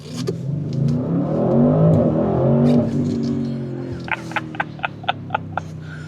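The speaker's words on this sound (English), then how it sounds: "Still have a twin turbo V8 making beastly noises" A 2026 Audi RS6 Performance with a twin-turbo V8 revs loudly from inside the cabin, a rising, droning engine pull that swells and eases, followed by a series of short, evenly spaced clicks.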